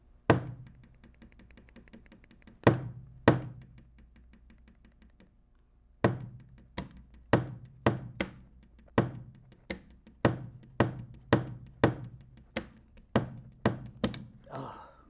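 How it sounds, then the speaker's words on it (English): A pen taps out a drum beat on a table in sharp, close knocks. A few scattered hits come first, then a quick steady rhythm of repeated strikes. "back when I used to do beats off the table with the pen like this"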